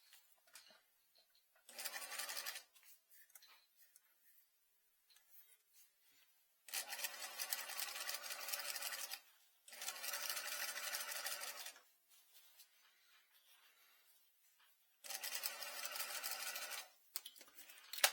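A sewing machine stitches a skirt waistband in four separate runs of fast, even whirring, each lasting a few seconds with quiet pauses between them.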